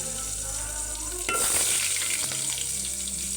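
Garlic and onion drop into hot oil in a pan, a steady frying hiss that swells into a louder crackling burst partway through, close and with no one talking.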